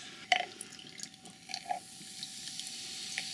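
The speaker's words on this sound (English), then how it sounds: "Just going to pour up like about half the can or so." A premixed Moscow Mule pours from a can into a glass over a few ice cubes, a faint, soft trickle of liquid with light clinks and drips, fairly quiet and without talk.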